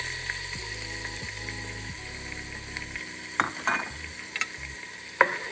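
Chopped onions sizzle after being dropped into a pan of melted butter, a steady close frying hiss broken by a few sharp clatters and scraping knocks toward the end, with no voices.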